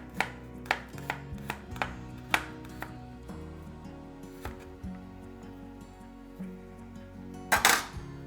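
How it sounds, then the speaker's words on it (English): A knife slices garlic on a cutting board for fried rice, giving a series of crisp, close taps at an uneven rhythm over a low, steady background hum, ending with a louder clatter. "Slice my garlic here to fry."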